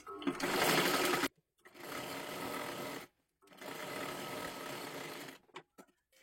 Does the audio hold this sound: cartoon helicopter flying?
no